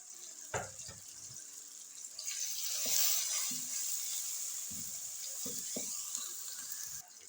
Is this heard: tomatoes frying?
yes